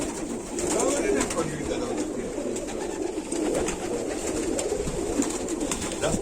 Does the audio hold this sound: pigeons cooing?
yes